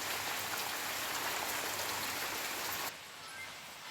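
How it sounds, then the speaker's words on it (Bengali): Steady rain falling during a stormy midday power cut, a dense continuous patter that drops slightly in level near the end, with no voices. "এই দেখো এখনও বৃষ্টি হচ্ছে তো কন্টিনিউ হয়ে যাচ্ছে থামছে না"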